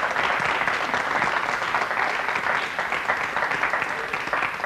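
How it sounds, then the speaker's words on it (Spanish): Steady applause from a studio audience on a 1996 television talk show, a dense continuous wash of many hands clapping throughout at a strong, even level with no talking. "Y más aplausos."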